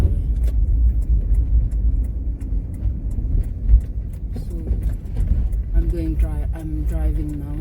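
Car driving, a steady low engine and road rumble running throughout, close and fairly loud, with a person talking over it.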